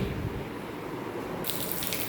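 Water running steadily from a pipe into a bucket during floor-mat washing at home, a continuous close splashing rush that brightens and grows louder partway through.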